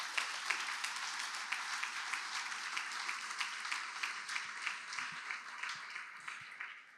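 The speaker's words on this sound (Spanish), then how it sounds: "Eso merece un fuerte aplauso." Church congregation applauding during a Spanish-language sermon: a steady, dense wash of clapping that holds evenly and fades slightly at the end, with no talking over it.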